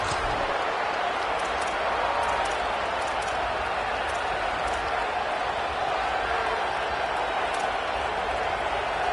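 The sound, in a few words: crowd roaring in a football video game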